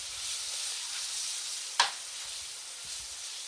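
Garlic sizzles steadily in a pan over medium-high heat, a constant close hiss with one brief sharp crackling flare partway through and no voices.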